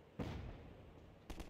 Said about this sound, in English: Oh, threw a grenade.